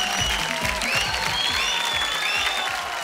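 Audience applause rings out for showstopper Lara Dutta at the LIVA Miss Diva 2022 grand finale. It is a steady, dense, continuous clapping from a large crowd, with cheers and whistles over it throughout.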